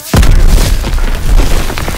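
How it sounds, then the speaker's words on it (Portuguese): A sudden loud boom bursts out in a World War II video game, followed by a rumbling, crackling tail of debris that lingers and slowly fades. "Explosão!"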